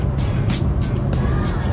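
Interior of an Audi B5 S4, a 2001 model, driving along with a steady low road and engine rumble filling the cabin, plus recurring bursts of broadband road or wind noise.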